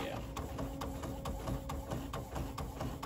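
An Epson WF-7720 sublimation printer runs with a steady mechanical whir and regular rhythmic clicks from its print-head passes. The sound is continuous and close.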